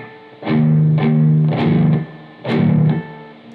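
A slow electric guitar rhythm figure from a song, played with distortion in three or four sustained, evenly spaced strums, each ringing out before the next.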